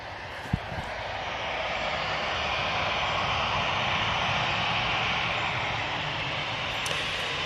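An airliner at Manchester Airport begins its takeoff roll, engines spooling up into a broad, swelling roar that holds steady and loud, heard from a distance.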